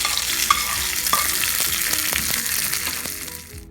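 Mustard seeds, urad dal, curry leaves and chilies crackle in hot oil for tempering, a steady close sizzle with a few sharp pops, fading slightly at the end.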